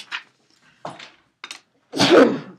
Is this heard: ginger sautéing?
no